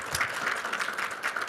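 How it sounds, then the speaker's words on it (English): Applause from the audience at a booster club bylaws meeting, a brief, even patter of many hands clapping at moderate distance with no voices on top. "Can we give them a round of applause?"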